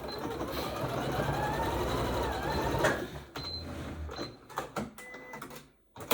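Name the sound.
sewing machine stitching elastic strap of a headband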